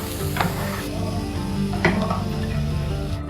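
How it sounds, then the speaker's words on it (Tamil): Onions sizzle steadily in a hot pan, with a couple of brief scraping stirs of a spoon, close and continuous. "இந்த வெங்காயமும் கொஞ்சம் வதங்கட்டும்"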